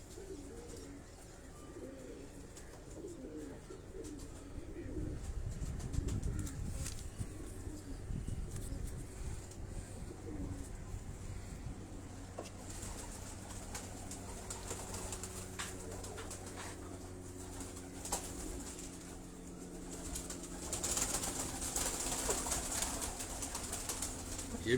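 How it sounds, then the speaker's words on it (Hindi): Jausra male pigeons coo in low, rolling murmurs through a long stretch, with occasional wing flutters and handling noises nearby. "ये नर कबूतर है जौसरा"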